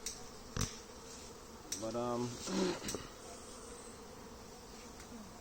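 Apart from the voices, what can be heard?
honeybees buzzing around an open hive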